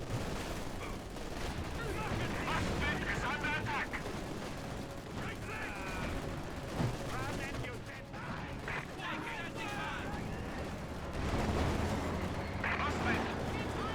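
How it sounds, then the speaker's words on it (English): A sustained firefight in the World War II strategy game Company of Heroes 2, with dense rattling gunfire, scattered thumps and booms churning continuously under steady commentary from a caster. "now the firefight will commence there"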